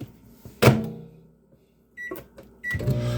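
A microwave oven used to heat taco shells gives a loud door clunk, then quiet, followed by sharp keypad beeps and the start of a steady, close running hum.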